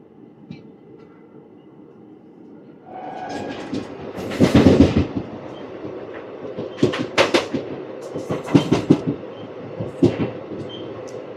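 The Circar Express, train 17644 from Kakinada Port to Chengalpattu, pulls out of Bhimavaram Town station. A low rumble builds after a quiet start, with sharp wheel clacks and knocks striking irregularly over the steady roar. No voices are heard.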